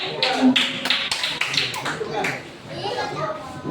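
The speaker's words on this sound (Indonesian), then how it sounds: "Tepuk tangan nih kelompok" Children in a classroom clap for a group, a burst of quick claps and taps close by, mixed with kids' voices and chatter.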